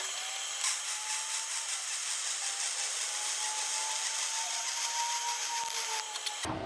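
A cap pass welded on structural steel: a steady, loud crackling arc hiss runs unbroken for about six seconds, then cuts off, with no talking.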